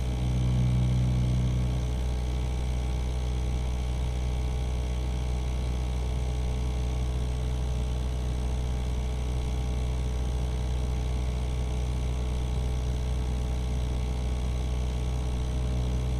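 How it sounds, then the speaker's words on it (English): A diesel engine under test runs as a steady, droning hum with a deep low rumble, slightly louder for the first two seconds and then settling into an even, continuous tone. "the operator applies pressure to the accelerator to provide that full power, and then takes their foot off the accelerator in idle mode"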